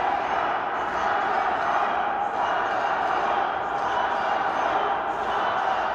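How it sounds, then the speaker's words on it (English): Steady crowd noise from a packed room at a Michigan ballot-counting site, many voices blending into a continuous rumble with a chant-like swell, loud and unbroken throughout. "Stop the vote. Not cheering, but chanting."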